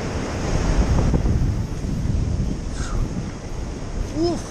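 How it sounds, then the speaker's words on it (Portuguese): Ocean surf rolls continuously at a beach in Unamar, the sea a bit choppy, with loud washing waves and heavy wind buffeting the microphone throughout. "As ondinhas, o mar tá meio mexido, ó."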